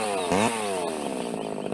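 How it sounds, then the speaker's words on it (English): A chainsaw roars in an audio drama scene, revving up sharply then settling into a loud, steady buzzing drone, close and alone without speech. "What in God's name do you need a chainsaw for?"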